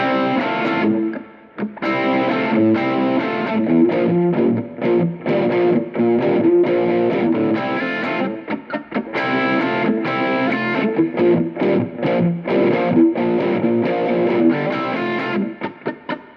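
An electric guitar strums a chord progression with a distorted, effected tone, chords changing in a steady rhythm with short gaps between strums.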